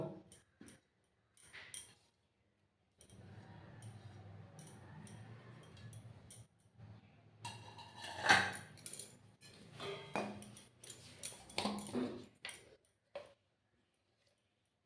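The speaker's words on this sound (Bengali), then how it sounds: "সমস্ত সবজিগুলো আমি মিক্স করে দেব" Chopped vegetables, including tomato, are mixed with a spoon in a bowl, giving close, intermittent clinks and soft scraping. Short bursts come first, then a longer stretch of steady stirring with sharper knocks, and no one talks.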